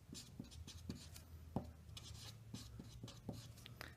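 A pen writes on paper with quiet, close scratching strokes and small taps as a formula is written out, an irregular rhythm of short marks and pauses with no talking.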